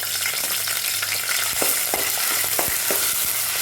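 Onion and ginger-garlic paste sautéing in hot oil in a pan, a steady close sizzle broken by occasional scraping stirs, with no talking.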